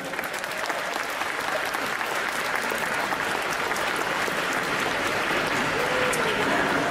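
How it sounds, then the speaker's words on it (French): Loud, continuous crowd applause for cosplayers at a convention costume parade, dense clapping throughout with some cheering and voices mixed in. "on va les applaudir encore plus fort, s'il vous plaît."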